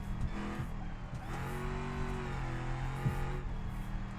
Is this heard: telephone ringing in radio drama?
no